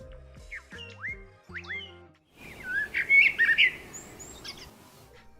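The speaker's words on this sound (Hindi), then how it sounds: "कभी सुबह सुबह कोयल की एक कूक सुनी है?" An Asian koel calls in the morning with clear rising whistled notes, loud and close, followed by a denser burst of excited, bubbling calls; no speech.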